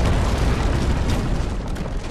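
A sailing warship's cannon broadside in the game Naval Action, heard as a loud, dense rolling boom that rumbles on without a break.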